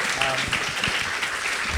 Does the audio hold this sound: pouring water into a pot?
no